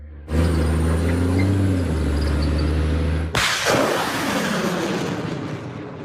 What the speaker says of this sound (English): they fired the HIMARS, it's no longer visible, there's a smoke screen, and the rocket is already heading toward the occupiers